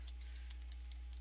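Light keystrokes tap on a computer keyboard, a handful of soft, evenly spaced clicks over a low steady hum, faint and close.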